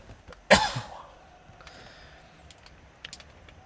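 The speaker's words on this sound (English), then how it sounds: "Excuse me while I clear my throat real quick" A single short, harsh throat clearing close up, followed by quiet room noise with a few faint clicks.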